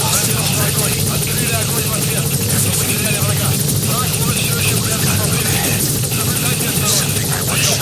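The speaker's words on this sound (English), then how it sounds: "Support helicopter has arrived." Support helicopter in Metal Gear Solid V arriving at the landing zone: steady, loud rotor thrum with engine whine fills the scene throughout, with voices in the game talking over it.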